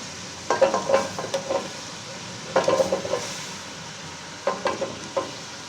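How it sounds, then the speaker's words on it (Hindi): Potatoes are stirred and fried in a ground tomato masala for aloo palak, with three bursts of spoon scraping and rattling against the pan over a soft, continuous sizzle. "आलू अच्छे से भून लेंगे।"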